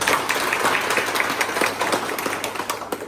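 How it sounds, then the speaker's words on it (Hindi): Masons at a cement dealer's meeting applaud loudly and steadily, a dense wash of many hands clapping at once with a few sharper individual claps standing out. "एक बार मैं सभी मिस्त्री बंधुओं को जोरदार तालियों के साथ स्वागत किया जाए।"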